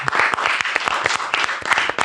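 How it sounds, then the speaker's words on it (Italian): Canned applause sound effect in an Italian Dragon Ball episode commentary show, sharp dense clapping from a small crowd with distinct slaps across the whole stretch, loud and alone with no voices. "Ah, applauso."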